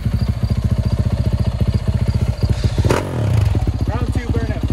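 A Yamaha YZF450 motorcycle revs hard in a burnout on new tires, its engine pulsing in rapid even beats, close and loud, with a brief surge midway where the tone rises and smears.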